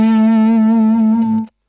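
An electric guitar through a Marshall amp with too much gain rings out as one sustained, distorted chord, loud and close, then cuts off abruptly near the end.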